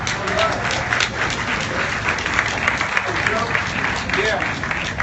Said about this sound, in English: Please give just a big round of applause to thank and bring up Thomas Hart.